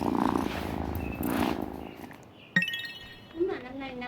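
A cat purrs softly in the video game Wylde Flowers, a low rumbling purr at first, followed by brief game chimes and a short cat-like sound, while a voice talks over it.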